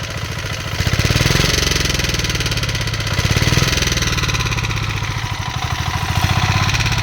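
A generator engine runs on a farm with its cable broken, a loud, close, steady chugging hum that pulses in regular beats and swells slightly now and then.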